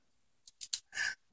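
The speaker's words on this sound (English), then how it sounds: "go ahead and use the key to cut this" A key cuts through packaging with a few faint clicks and then one short rasping slice, close and quiet, with no talk.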